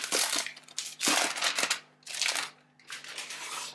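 Crinkly protective plastic being peeled and unwrapped from a new Microsoft Universal Keyboard, in several loud, close bursts of crackling with short pauses between them, over a faint steady hum.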